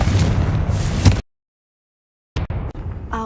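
A Confringo spell explodes in the video game Hogwarts Legacy with a loud, dense burst of roaring noise. It cuts to silence, then brief crackling and popping effects follow.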